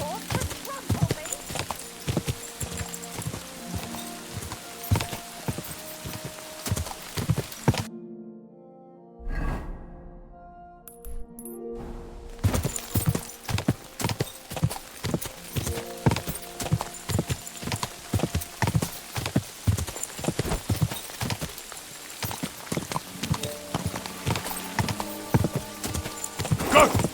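Horse hooves clip-clop steadily in Kingdom Come Deliverance II, a dense rhythmic run of hoofbeats with a brief lull midway, under game music and spoken dialogue, with a horse whinnying.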